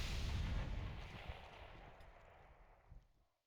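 A booming launch blast in a military video game, a loud low rumble fading over a few seconds with a smaller distant thump near the end before cutting to silence.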